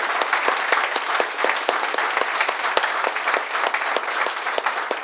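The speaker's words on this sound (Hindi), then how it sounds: "जोरदार तालियां हो जाए सभी लीडर्स के लिए।" An audience at a hotel event applauding its leaders; loud, dense, continuous clapping fills the room without interruption.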